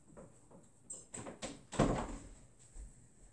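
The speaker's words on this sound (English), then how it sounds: "if I close my door real quick." A bedroom door is shut at home, giving a few soft knocks and handling clicks followed by a louder closing thud, heard close in a quiet room.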